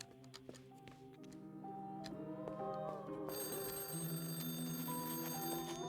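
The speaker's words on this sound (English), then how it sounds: "The phone is ringing." A telephone rings inside the video game Lorelei and the Laser Eyes, with repeated electronic bell tones over a low ambient musical drone and hum.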